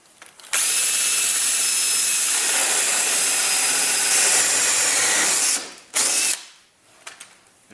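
A power drill drives a hole saw through a French door, one long loud grinding whir starting abruptly, running several seconds, then stopping with a short final burst before quiet.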